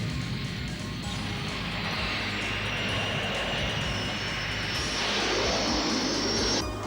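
Cartoon drone fighter aircraft flying in as a sound effect: a steady, loud jet-engine roar with a rising whine that swells near the end, with no talking over it.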